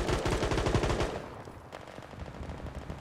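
Rapid automatic fire from an MG5 machine gun in the shooter World War 3, dense bursts loud and close for about a second, then thinning into scattered distant shots and softer game sounds.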